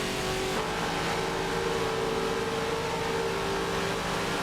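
Racing cars from a 1970s touring car championship roar side by side down the final straight, a dense, steady engine drone that stays loud and unbroken throughout.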